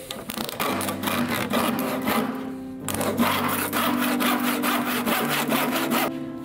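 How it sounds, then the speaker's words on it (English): A hand saw cuts through a piece of scrap wood being shaped into a generator pulley, with steady, rhythmic back-and-forth strokes, close and loud, briefly pausing near the middle before resuming. "And I'm going to turn it over and cut it off here."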